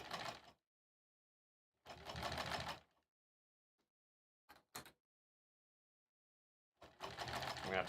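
A sewing machine stitches a quarter-inch seam on an embroidered pillow cover, running in four separate bursts of steady, fast needle whirring: three of about a second and one brief stutter, with silent pauses between.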